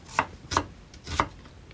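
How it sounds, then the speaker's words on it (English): A knife chops onions on a board in three distinct, evenly spaced strikes, close and fairly crisp, with no talking. "Chop 2 onions like me"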